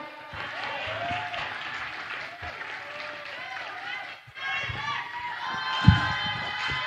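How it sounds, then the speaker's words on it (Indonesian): Audience applause fills a mosque hall during an early-childhood Quran memorization and sermon competition, steady and fairly loud, with children's shouts and voices mixed through it and a louder burst near the end. "Beri tepuk tangan yang meriah."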